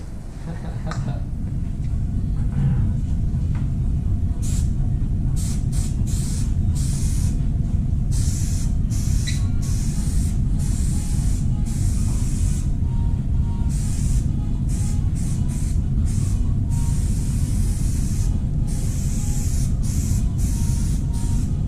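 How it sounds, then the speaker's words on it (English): 3M High Strength contact cement is sprayed onto upholstery in a loud, continuous hiss lasting many seconds, broken by short interruptions and bursts, with someone talking over it. "So we're going to come in here and we are going to shoot some more glue."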